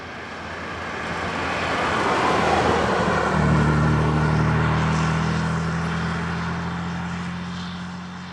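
Alvis TE21, a Rolls-Royce-built car, its engine revving up through the gears on a run: a steady broad engine roar that swells, settles into a firm droning note midway, then eases off, with no talk.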